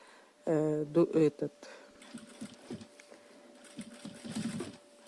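A sewing machine stitches fabric for a top hat in a short burst of whirring mechanical chatter near the start, loud and close, followed by quieter talking with faint handling noises.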